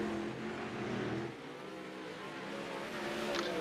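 Sprint cars race on a track at a night winged sprint car event, engines droning and shifting pitch at a distance, one engine note dipping then rising again, with no voices over it.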